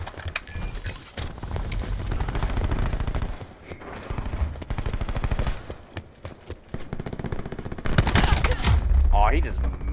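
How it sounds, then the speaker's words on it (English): Rapid gunfire bursts in a Call of Duty Black Ops 4 multiplayer match, loud and repeated, under and between voices of players talking. "How am I getting fucking shot up there?"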